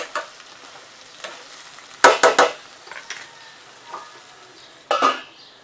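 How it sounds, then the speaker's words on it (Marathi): A stuffed crab, cooked Aagri style, is flipped and fries in a pan. A low sizzle runs under sharp clattering scrapes and stirring knocks, with bursts around the middle and near the end. "आता त्याला पलटी करून शिजवूया आपण"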